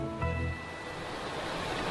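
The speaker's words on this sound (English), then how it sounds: "Is this water coming from the glacier?" Meltwater from a Tian Shan glacier near Urumqi rushes steadily in a dense, close broadband wash, with a brief lower surge near the start and no voices.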